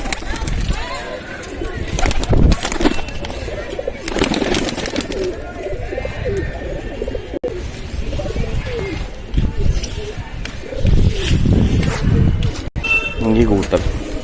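A pigeon with a lung infection coos in low, soft repeated calls close by, mixed with rustling and handling sounds while a person talks nearby.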